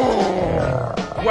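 A lion roars loudly and close in a short burst, with a voice nearby.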